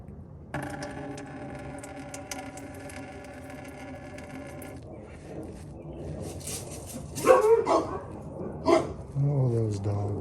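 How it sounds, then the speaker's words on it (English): Dogs bark and yip in a few short bursts partway through, near and fairly loud, following a steady engine-like hum, with someone speaking over part of it during a Toyota/Lexus thermostat and radiator coolant job. "Oh, those dogs."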